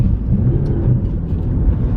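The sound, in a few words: Holden Cruze car turning out onto gravel off-road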